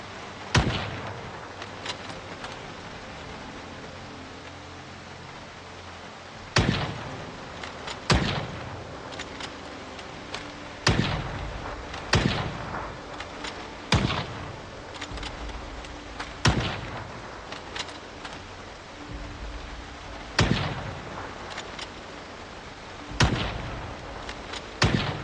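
Rifle gunshots in the video game Project Zomboid, about a dozen loud, sharp single shots spaced a few seconds apart, each with a short echoing tail over a low background ambience.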